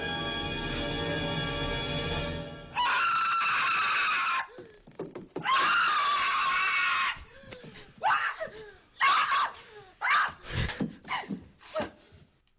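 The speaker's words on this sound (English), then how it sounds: "you screamed like Marv the burglar in Home Alone when Kevin put a tarantula on his chest" A film scream from Home Alone, the burglar Marv shrieking as a tarantula sits on his chest: one long, loud, high cry, then a string of shorter strained yelps and gasps.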